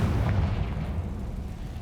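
Confringo spell explosion in the Hogwarts Legacy video game: a deep, rumbling blast that carries through the short span, low and heavy, fading slowly without a sharp onset, no voices over it.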